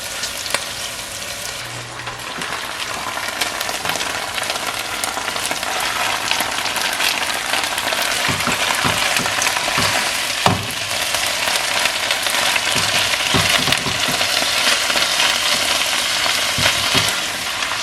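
Ginger and garlic frying in a pan while cooking keema aloo, a steady loud sizzle with occasional spatula stirring clicks, continuous and close, no voices.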